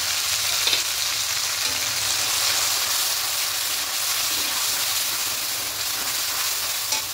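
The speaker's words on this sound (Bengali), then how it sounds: "এবার এই সময় যে মশলাটা পেস্ট করেছিলাম এটা দিয়ে দেব" Spice paste frying in hot oil for aloo dum, a steady close-up sizzle that stays loud and even throughout with no voices.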